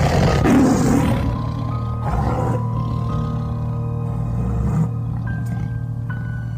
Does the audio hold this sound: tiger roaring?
yes